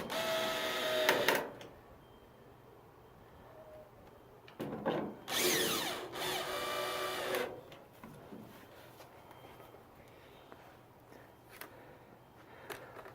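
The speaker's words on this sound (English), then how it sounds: "I'm using a drill just for ease and convenience" Power drill backing screws out of a 1995 Ford Ranger tail light housing, several short whirring bursts close by with quiet pauses and faint handling noises between them.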